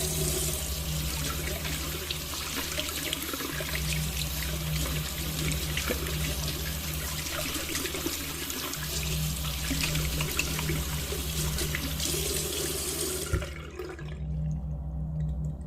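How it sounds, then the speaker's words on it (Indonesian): Water running steadily from a sink tap while someone washes their face at night, a continuous splashing flow close by that stops abruptly near the end, part of a radio drama. "sudah kebiasaanku mencuci muka dan sikat gigi di wastafel"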